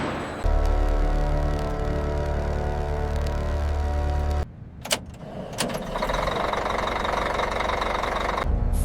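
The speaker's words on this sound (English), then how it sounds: "For the first time in 28 years, the engine awakened, and its amber eyes burned again." A giant monster vehicle's engine turns over and starts after 28 years dormant, giving a loud, steady knocking idle, then a brief quieter gap with clunks before the running engine returns louder with a rougher, brighter tone.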